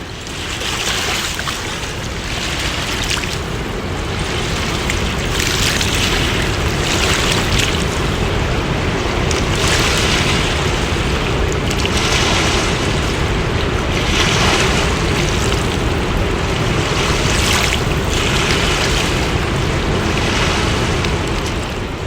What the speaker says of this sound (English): it's an area where we can take in some of the sounds and the sights of the river